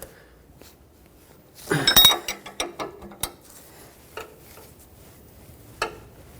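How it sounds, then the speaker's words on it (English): A hand ratchet tightens the front sway bar link nut on a 2003-2009 Toyota 4Runner, giving a close burst of quick metallic clicks followed by scattered single clicks and clinks. "put your ratchet to reverse as if you're trying to loosen because the threads go in that direction in order to tighten it"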